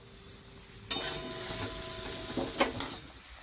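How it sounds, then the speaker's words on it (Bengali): Spice paste sizzles steadily in oil in a pan after a sudden burst, with a few scraping stirs toward the end; close and fairly loud, no voices. "ততক্ষণে মশলাটা ভালো করে ভাজা হয়ে যাবে"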